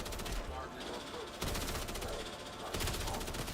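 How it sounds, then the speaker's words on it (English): Light machine gun in Tower of Fantasy fires in sustained rapid bursts, loud and dense, with brief gaps between strings of shots and some game sound underneath. "This LMG is crazy."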